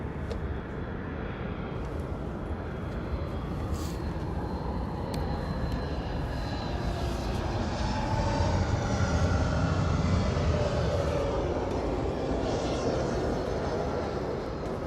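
Heavy jet airliners coming in to land at LAX, a faint, distant, sustained engine roar that swells slightly toward the middle, with no voices.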